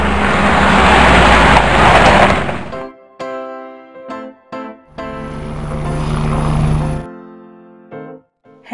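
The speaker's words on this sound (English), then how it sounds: "Helicopter." A toy helicopter from an Anpanman educational toy plays a loud rotor and engine whir, then a short pause with clicks and chimes, then a second whirring burst.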